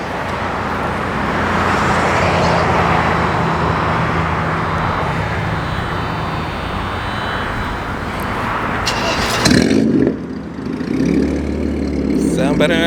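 A car engine roars with a steady, broadband rumble that holds for several seconds, then drops and picks up again as the vehicle moves, loud and close.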